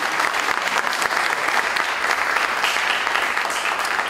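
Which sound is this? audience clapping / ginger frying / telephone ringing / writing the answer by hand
audience clapping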